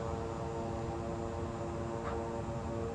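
A propeller airplane in Microsoft Flight Simulator 2020 roars steadily on reverse thrust while landing at Santa Monica Airport, a dense continuous engine drone with a tonal buzz, loud and even throughout with no talk.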